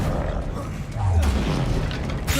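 Disarming spell cast amid combat in Hogwarts Legacy, a loud booming rush with a deep whoosh swelling midway, heavy low rumble and sharp crackles throughout.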